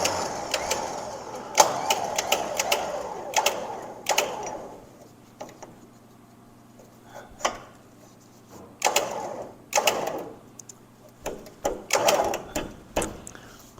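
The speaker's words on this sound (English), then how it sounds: "I need to pull up some slack out of this now, and it's a good chance for me to test it out" A Badland ZXR 12,000 lb electric winch pulls up slack in short, close bursts of whirring motor noise, separated by quiet gaps and stop-start handling sounds.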